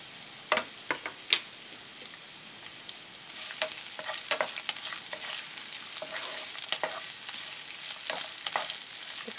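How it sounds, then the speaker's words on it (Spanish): Julienned red onion frying in a pan: a steady sizzle with scattered pops and the scrape of stirring, fairly close and moderately loud, with no talk. "Voy a poner cebolla morada en juliana, cortada en julianas."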